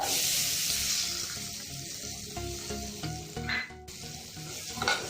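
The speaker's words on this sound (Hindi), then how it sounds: "अब मैं इसमें ये कटी हुई कुंदरू डाल दे रही हूँ" Chopped ivy gourd fries in oil spiced with turmeric, a steady close sizzle with scattered scraping stir sounds and no voices.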